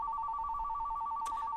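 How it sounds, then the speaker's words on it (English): A telephone rings with a steady electronic two-tone warble, loud and continuous, with a short clatter near the end. "phone is ringing"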